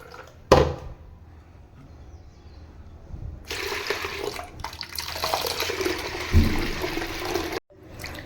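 Soaked urad dal being washed by hand in a small amount of water, with splashing, sloshing and a sharp pour near the start, then busier swishing and rinsing sounds that cut off abruptly near the end.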